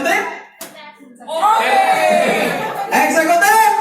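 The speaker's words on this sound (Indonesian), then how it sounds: "Tepuk tangan buat Anda semua" Audience clapping during a closing statement at an event, bursts of hand claps mixed with chatter and a chuckle as voices speak over the applause.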